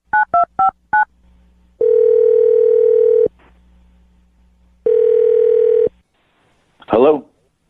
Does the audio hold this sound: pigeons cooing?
no